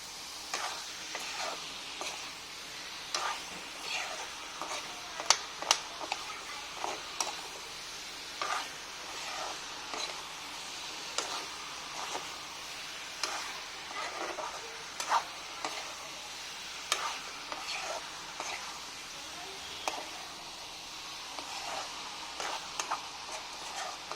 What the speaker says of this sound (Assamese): এইখিনি এতিয়া ধুনীয়াকৈ পিঁয়াজৰ লগত মই মাংসখিনি ভাজি দিম।